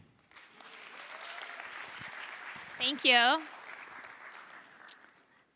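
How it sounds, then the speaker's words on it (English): A crowd claps steadily after a startup pitch at a quickfire pitch event, a moderate, even wash of applause, briefly interrupted midway by a speaker talking over it. "Yes, we can clap, we can clap."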